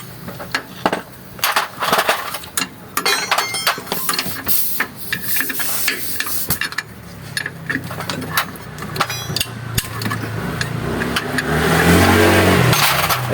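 A warmed-up Mitsubishi L300 engine runs with a knocking fault, giving a steady idle full of rapid metallic ticks and clatter, loud and close, with hiss rising toward the end.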